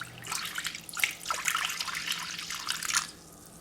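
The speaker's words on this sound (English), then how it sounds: "You can see I'm starting to get a boil with my beef stock." Four cups of beef stock coming to a boil in a pan, soft bubbling and popping with faint dripping, close but quiet, with no talking.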